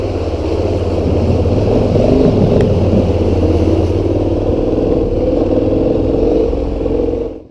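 A KTM 1190R adventure motorcycle climbs steep high-country trails in the snowy mountains, its engine a loud steady drone held under load, with a brief clatter, before cutting away at the end.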